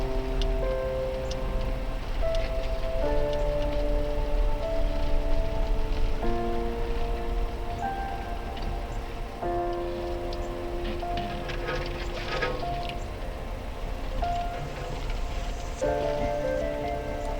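Rain patters steadily on an ORV trail near Ogema Hills, Michigan, a constant wash of drops heard alongside sustained tonal sounds, with no talk.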